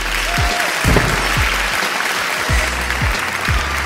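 Sitcom studio audience applause as a character enters the room, a dense, steady burst of clapping from a crowd, with low thumps scattered underneath.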